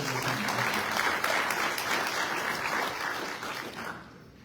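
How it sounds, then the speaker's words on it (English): Audience applause at a chamber of commerce candidate forum, a steady wash of clapping from a room full of people that holds for about four seconds and then tapers off at the end. "let's give a round of applause to the chamber"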